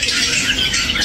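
A murai batu (white-rumped shama) sings in a market bird kiosk, a shrill, rapid chattering burst of high notes, loud and close, with no voices.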